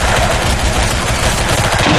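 Rapid automatic gunfire from a G11 rifle in a video game, a loud dense burst of shots rattling continuously for the whole moment with no voices over it.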